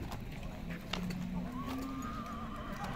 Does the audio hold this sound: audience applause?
no